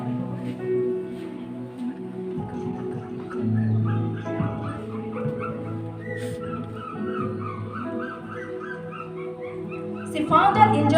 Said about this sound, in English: She found an injured puppy who was in pain